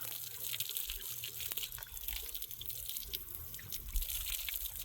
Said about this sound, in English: So, go ahead and rinse my hands off.